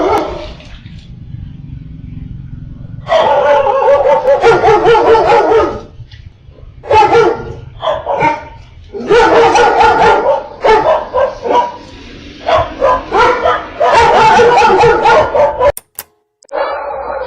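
Dogs bark loudly and repeatedly in bursts, several animals overlapping, with short pauses between volleys and low background rumble.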